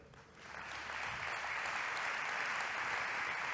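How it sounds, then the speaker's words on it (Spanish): A church congregation breaks into sustained applause, the clapping swelling after a brief softer start into a steady, dense wash of many hands that holds to the end. "pues vamos a darle un aplauso"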